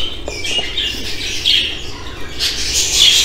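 Chirps and squawks from show jumbo budgerigar chicks in a nest box, steady high-pitched calling that rises and falls in bursts, close to the microphone with no talking.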